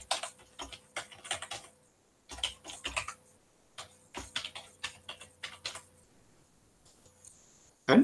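A password is typed on a computer keyboard, the keys clicking close and crisp in quick runs separated by short pauses, ending with a louder final tap.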